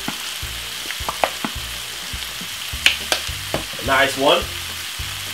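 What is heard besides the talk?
stirring vegetable tuna in a frying pan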